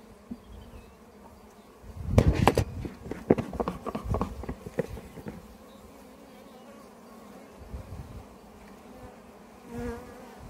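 Honeybee colony buzzing at an open hive during a spring inspection, a steady close drone swelling with sharp bursts of activity and handling knocks around the middle, then settling to a softer hum.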